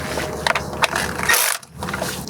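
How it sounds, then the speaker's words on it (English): Ratchet snugging down the two 10mm bolts on a Honda K24 2.4L VTEC spool valve solenoid, giving quick close clicking bursts of the pawl, with a short pause before the clicks resume. "And I'm just going to snug these down."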